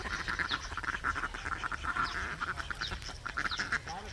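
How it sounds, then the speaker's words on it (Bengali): Many ducks quack continuously in a noisy, overlapping chorus by a pond, fairly close, with a low rumble underneath. "কতগুলো হাঁস।"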